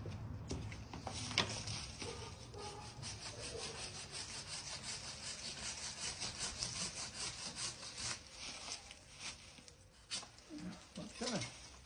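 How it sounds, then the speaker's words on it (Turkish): A hand saw rasps through a plum tree branch during pruning in rapid back-and-forth strokes, a steady rhythmic scratching close by, with occasional speech in the background. "Onu oradan keseyim ve testereyim bu sefer."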